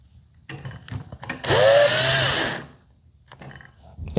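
A power drill drives screws into a sliding door pull and cover plate, one loud whirring burst that rises in pitch then winds down over about a second, with quiet handling clicks around it.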